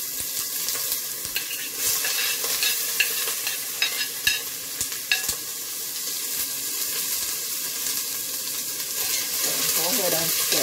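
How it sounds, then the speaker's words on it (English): Onion frying in oil in a pan gives a steady hiss and crackle up close, with scattered stirring clicks and a brief watery swirl near the end, and no talk. "So now I'm gonna put my onion, let that fry up a little."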